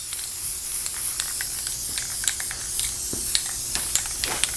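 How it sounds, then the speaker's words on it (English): An aerosol spray can puts a coat of paint on a Centuri/Konami Time Pilot arcade coin door. The close, steady hiss is broken by short bursts of spitting spray. "We're just spraying it on."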